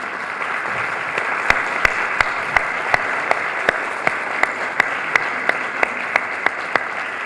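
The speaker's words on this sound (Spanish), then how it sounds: "Les pido un aplauso a los varones presentes" An audience claps steadily throughout, a dense, sustained round of applause with a few sharper individual claps standing out near the front.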